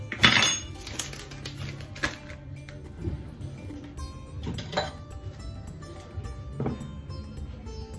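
Metal spoon scooping from a dish while preparing a cold sweet or savory dish: close, bright clinks and scrapes of metal on dishware, several separate taps spread over the span, no voices.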